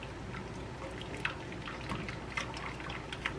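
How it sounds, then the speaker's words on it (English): Cream being poured slowly into a pan of melted butter and whisked in, giving soft, steady liquid trickling with light drips and clinks, close and quiet with no talking. "So whisk in the cream, just pour it in slowly."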